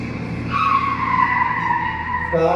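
As a stage sound effect in a Malayalam social drama, a vehicle brakes to a stop, with a loud sustained tire squeal sliding downward in pitch for about two seconds before a brief final screech.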